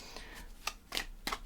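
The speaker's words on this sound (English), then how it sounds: "I'm going to shuffle these back in" Tarot cards being shuffled back into a deck, three or four quick papery riffles in close succession, near and fairly quiet with no talking.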